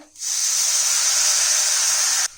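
Loud, steady sizzling hiss of ginger-garlic paste and green chillies frying in a pan as a little water is added, bursting in suddenly and holding strong for about two seconds before cutting off.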